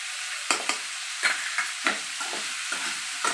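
A spoon stirs a sizzling tempering of turmeric and salt in hot oil in a pan, with steady frying crackle and several soft scraping strokes at close range, no voices.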